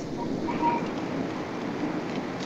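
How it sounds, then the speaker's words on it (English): Heavy rain drums steadily on a moving vehicle during a drive, a constant, muffled wash of noise with no gaps and no talk. "You know, driving in the rain."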